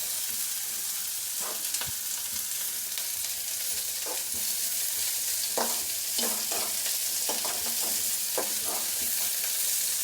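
Small onions sauté with a light sprinkle of salt in a pan for a mutton fry, a steady close sizzle broken by scattered clinks and scrapes of a stirring spoon.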